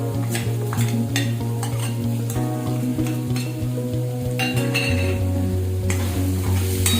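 Chopped ginger and garlic sauté with onion in a pan, a steady close sizzle with periodic spatula scrapes and stirs, while music plays underneath throughout.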